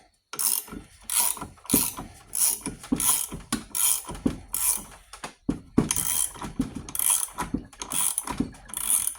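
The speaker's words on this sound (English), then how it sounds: "Okay, so I got a ratcheting wrench there to tighten it down." A ratcheting wrench tightens a bolt during a power steering pump replacement on a 2007 Cadillac Escalade. Close, loud bursts of rapid clicking repeat in a steady back-and-forth rhythm with brief pauses between strokes, and no talking.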